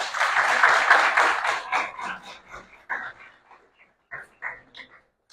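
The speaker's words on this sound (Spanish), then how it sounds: "Por favor, denle un fuerte aplauso." Audience applause in a university auditorium during a commemorative ceremony, a loud dense burst of clapping that fades over a few seconds into scattered claps.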